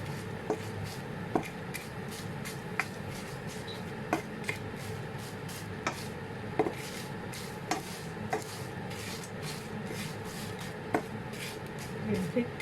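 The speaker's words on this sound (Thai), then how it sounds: "จากนั้นเราก็ทอดพริกค่ะ น้ำมันที่เหลือนี่ค่ะ เอามาทอด ให้เขากรอบค่ะ" Chilies fry in leftover oil until crisp while making Thai fish chili paste. A soft, steady sizzle runs throughout, punctuated by regular sharp taps of a utensil against the pan.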